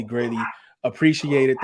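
Several dogs bark in quick, loud bursts nearby, broken by a short pause, while someone speaks over them.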